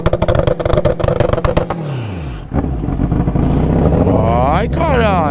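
A turbocharged Yamaha XJ6 motorcycle being ridden, its engine pulsing rapidly, then dropping and revving up again with rising and falling pitch, loud and close, with wind noise.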